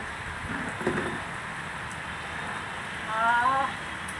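Heavy rain pours steadily outdoors, soaking chairs where water is pooling, as a continuous broadband hiss with a brief voice rising over it near the end.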